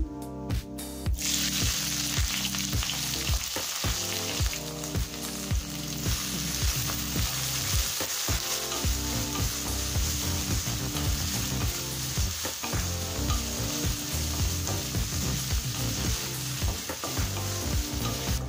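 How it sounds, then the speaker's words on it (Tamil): Loud, steady sizzling of onions frying in oil in a hot pan, continuous throughout with occasional stirring scrapes. "இப்போ வெங்காயம் நல்லா வதங்கிடுச்சு."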